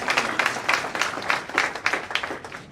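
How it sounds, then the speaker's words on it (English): Audience applause for a young radio journalist at a public event, a dense, steady wash of many hands clapping that keeps a lively, slightly pulsing rhythm throughout, fairly close and moderately loud, with no talk over it. "Clap for him for a second, please."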